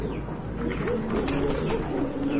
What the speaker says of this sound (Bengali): চমৎকার ব্ল্যাক এন্ড হোয়াইট কালার ভিতর চমৎকার এক জোড়া কবুতর